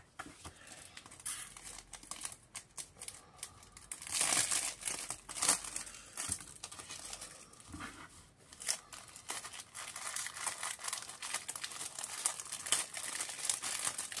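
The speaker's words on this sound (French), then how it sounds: "Ah, le papier n'est pas pareil, alors pour emballer, c'est pas évident." Decorative scrapbooking wrapping paper crinkles and rustles steadily as it is handled and folded, close up and fairly quiet, with no talk.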